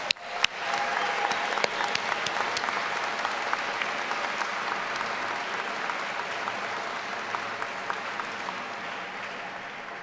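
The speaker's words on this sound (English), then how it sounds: "Graduates, please join me in saying thank you to your supporters with a round of applause" A graduation ceremony audience for Duke MBA graduates breaks into sustained applause thanking their supporters, a dense field of many hands clapping that starts sharply and holds steady, fading slightly toward the end.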